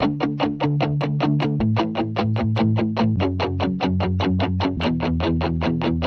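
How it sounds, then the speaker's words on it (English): Palm-muted guitar plucks in a steady fast rhythm, heavily processed with Camel Crusher distortion, reverb and EQ, shifting bass notes every couple of seconds, loud and alone, for melodic bass music in FL Studio. "For the processing, camel crusher, reverb, and EQ. Muted guitar."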